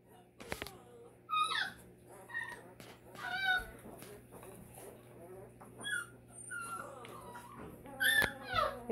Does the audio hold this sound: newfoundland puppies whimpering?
yes